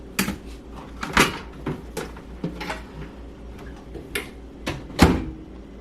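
A microwave door is opened and closed several times during a repair for intermittent power, giving a series of sharp plastic clicks and latch clunks spaced irregularly, close by, with no talking.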